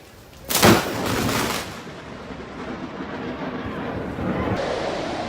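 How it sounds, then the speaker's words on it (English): Lightning strikes a boat anchored at a Boston yacht club, setting off an explosion on board: a sudden loud crack and blast followed by a long rumbling roar that lingers under wind and water noise. "As the bolt hit, sparks flew and triggered an explosion on board."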